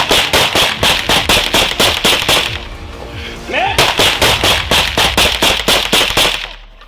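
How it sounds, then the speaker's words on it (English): Rapid bursts of sharp popping shots in quick succession, a brief pause with a faint voice, then another volley of loud cracks. "Gunfire breaks the night"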